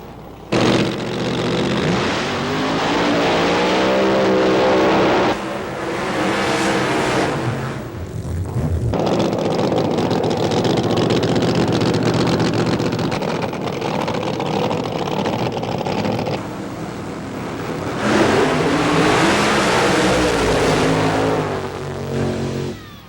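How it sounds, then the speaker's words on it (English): Alcohol-burning funny car drag racing engines at a drag strip, sustained thunderous roaring passes and revving that swell and fade across the clip, loud and continuous. "alcohol funny cars are just as rad and just as bad"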